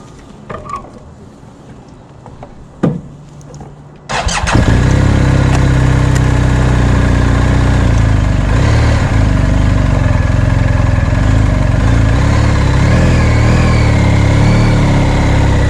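A 2020 BMW R 1250 GSA HP motorcycle starts after a few quiet knocks and handling sounds, then its engine runs steadily and loudly, rumbling close by as the ride gets under way.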